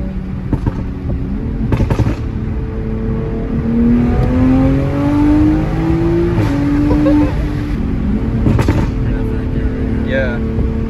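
A 500-wheel-horsepower Toyota Supra accelerates hard, its engine note climbing in pitch through the gears with a steady loud roar as heard from inside the car, while people talk over it.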